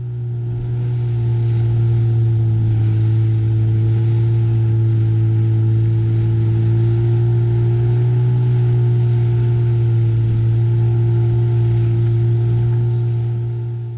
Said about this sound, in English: My 25 horsepower outboard was running on 3/4 throttle